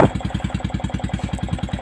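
A Yamaha Vixion motorcycle engine runs steadily with a close, loud, even pulsing beat, faint stumbling hinted, heard alone without talk.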